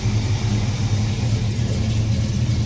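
A car engine, warmed up with fresh fuel, rumbles steadily and loudly close by, a continuous deep drone without any distinct surges.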